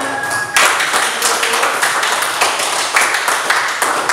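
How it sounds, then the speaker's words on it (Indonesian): Students in a school classroom clap together in a dense, steady burst of applause that stays fairly loud and even throughout, with no talk over it. "tepuk tangan"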